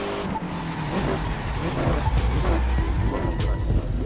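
A Volkswagen Golf GTI in The Crew 2 brakes hard, its engine roaring with a rough tire scrub and skid, loud and continuous throughout.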